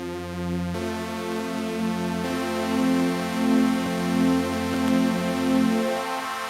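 Arturia MatrixBrute synthesizer in paraphonic mode, two oscillators sharing one filter and amp, sustains a rich buzzy tone with shifting notes and gently swelling volume, played alone with no voices.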